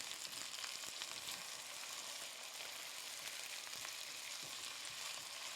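Chicken for a sweet potato stew browns in a pot, giving a faint, continuous frying hiss with occasional stirring sounds and no talk.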